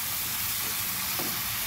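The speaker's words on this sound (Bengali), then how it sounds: "এটা একটু ভাজা ভাজা হবে।" Onion and chili paste fry in a pan with a steady close sizzle and crackle, a light stir scraping once midway.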